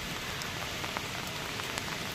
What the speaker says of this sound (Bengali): এই বৃষ্টি শুরু হলো, বাজে অবস্থা করে ছাড়লো।